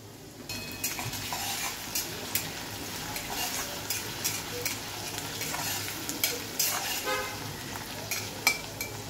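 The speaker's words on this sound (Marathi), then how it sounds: "लसूण तुम्हाला चांगला लालसर होऊन द्यायचा आहे" Garlic fries in hot oil until reddish, with a steady sizzle and frequent crackling pops and spatula scrapes against the pan, close and fairly loud, with no talking.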